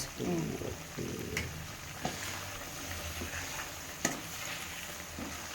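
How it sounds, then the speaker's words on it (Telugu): A spoon stirs turmeric into bitter gourd pickle in a pan, making soft scraping and faint sizzling with a few sharp clinks, close by and at low volume. "వేసి కలుపుదాం ఒక స్పూన్ పసుపు వేద్దాం ఇందులో"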